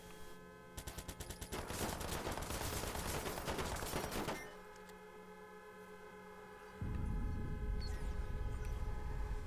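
Rapid automatic gunfire in the video game Watch Dogs 2, a dense burst of close, loud shots over a steady electronic hum, followed by a lower rumbling roar.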